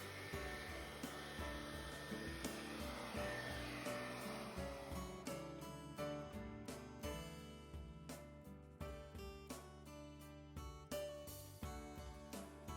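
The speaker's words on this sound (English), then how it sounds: "Here I'm using a hair dryer to speed up the drying process." A hair dryer blows steadily at close range over a decoupage glass jar, its airflow rushing continuously while sharp clicks and bumps punctuate the second half.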